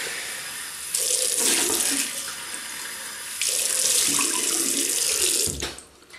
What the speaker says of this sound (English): Rinse off, but don't dry the face, Paul.